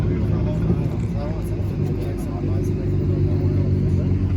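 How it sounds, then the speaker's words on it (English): A car's exhaust gives a low, rumbling gurgle at a car meet, steady and fairly close, with people talking over it. "Is that a gurgle or is that a problem?"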